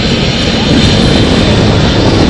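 A CASA-built twin-engine military maritime patrol aircraft of the Irish Air Corps passes at an air show, a loud, close, continuous engine roar filling the whole moment.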